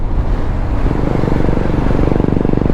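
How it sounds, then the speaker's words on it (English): A Royal Enfield motorcycle approaches through junction traffic, its steady low thumping engine note loud and close throughout, with continuous road and traffic noise around it. "I can hear an Enfield coming up."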